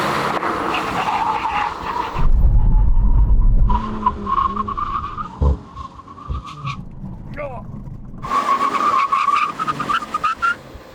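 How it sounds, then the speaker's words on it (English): An Audi RS5 and a BMW M3 brake hard, their tires skidding and squealing loudly in two long bursts, at the start and near the end. Engine noise and brief voices are heard in the quieter gap between them. "I think we can confirm that the BMW brakes in a shorter distance than the Audi."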